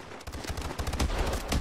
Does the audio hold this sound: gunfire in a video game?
yes